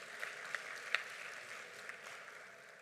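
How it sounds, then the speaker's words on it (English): Faint, distant round of applause from the audience at an African Union high-level dialogue in Accra, a soft continuous patter with a few sharper claps standing out. "Please give her another round of applause."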